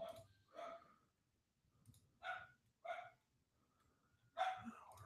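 A dog barks several times at moderate distance, with short separate barks spaced unevenly over a few seconds against quiet background hum.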